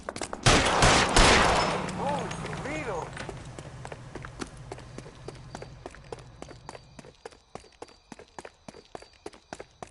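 Gunfire in the L.A. Noire video game: a loud burst of rapid shots opens, followed by scattered sharp reports and clicks that thin out, with voices shouting beneath.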